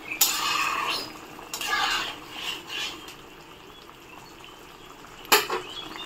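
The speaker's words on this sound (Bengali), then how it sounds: "দেখো ঝোলটা ফুটে এসেছে" Curry gravy of taro with fried shrimp bubbles in a pot as it is stirred, a soft simmering hiss broken by light scraping and one sharp clink of a utensil against the pan.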